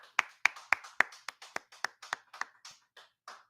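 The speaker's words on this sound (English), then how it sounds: "Let's clap it up" A single pair of hands claps about a dozen sharp, close claps in a quick steady rhythm, each one distinct with silence between, and they soften and spread out toward the end.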